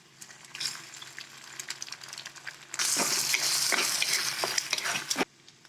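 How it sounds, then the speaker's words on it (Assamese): An egg drops into a hot pan of fried onions and sizzles loudly for a few seconds after quieter stirring and frying sounds, then the hiss cuts off abruptly. "এতিয়া ইয়াতে মই এটা ডিম এনেকৈ ভাজি ল'ম"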